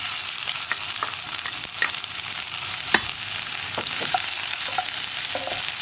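Steady oil sizzle with crushed onion and garlic frying, broken by occasional stirring clicks and scrapes; close and continuous, no voices.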